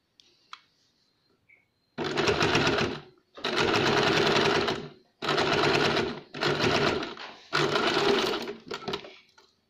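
Sewing machine stitching beaded lace onto a glass-style neckline, running in five loud sustained bursts of rapid needle clatter separated by short pauses.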